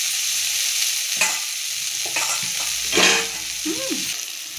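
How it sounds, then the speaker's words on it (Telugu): Ingredients for egg fried rice sizzle steadily in a pan, with a few sharp spatula scrapes and clatters over the constant hiss. The sound is close and moderately loud, with no voices. "కొంచెం మూత పెట్టుకొని 5 నిమిషాలు ఫ్రై చేయనిద్దాం."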